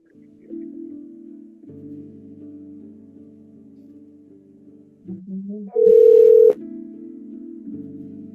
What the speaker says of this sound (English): So anyway, you can also dial.